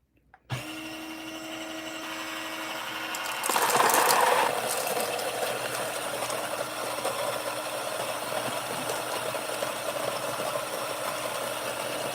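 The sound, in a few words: conical burr coffee grinder grinding beans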